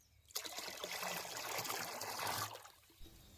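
Buttermilk pours into a container of water, mixed as a feed for rose plants, a soft close trickle that starts suddenly, runs steadily for about two seconds and then tapers off to quiet.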